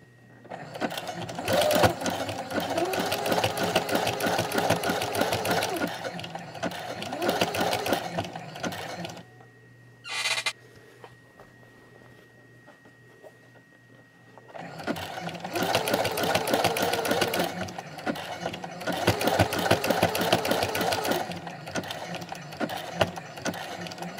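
A sewing machine fitted with a walking foot zigzag-stitches a fold-over binding onto a scrappy string quilt, with two long, loud runs of rapid mechanical stitching separated by a quiet pause with a short whir.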